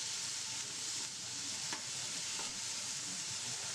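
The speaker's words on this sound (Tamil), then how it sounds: "அதை அந்த எண்ணெயில் போட்டு அந்த இஞ்சி பூண்டு பேஸ்ட்டை நல்லா வறுத்துருங்க" Ginger garlic paste fries in hot oil, giving a steady, even sizzle with faint stirring scrapes, up close and with no talking.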